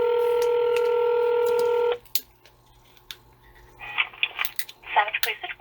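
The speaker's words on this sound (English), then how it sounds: "let's give him a call and see what he says." A telephone call being placed to a police switchboard opens with a loud steady dial-tone chord lasting about two seconds, followed by quieter clicks and scattered keypad-like tones as the number is entered.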